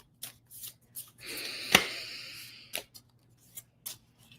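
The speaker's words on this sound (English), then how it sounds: "let's pull some tarot cards for this week ahead" Tarot cards being shuffled close up produce a series of short papery riffles and taps, then a longer sliding rub that ends in a sharp snap, followed by several more light card flicks. No one speaks.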